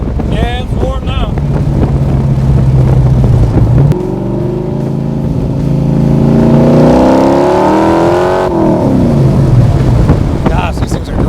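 A 1965 Backdraft Cobra, a lightweight car with a 500-horsepower engine, accelerates hard through several gears, its loud engine note rising in long pulls with brief shift dips, heard from inside amid wind noise and some talk.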